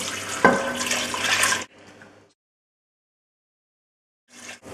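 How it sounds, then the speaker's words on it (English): Water runs steadily into a cooking pot for sambar, a close, fairly loud pour that cuts off abruptly, followed by a quieter tail, near-silence, and a brief faint return of sound at the end. "And now to this I'm adding water."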